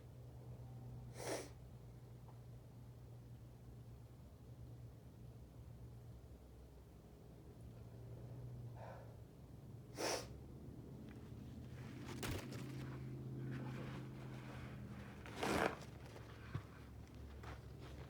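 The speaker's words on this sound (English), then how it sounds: "That was a cough and a sneeze." A cough and a sneeze from a man in the middle of a strong sneezing fit, heard as a few sharp, close bursts scattered over a steady low hum, with faint sniffing between them.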